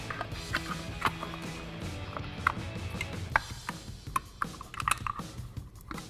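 A plastic brake caliper cover snaps onto a 2015-2023 Ford Mustang EcoBoost caliper, a series of sharp clicks and clacks with fainter handling rattles between them, close and fairly quiet.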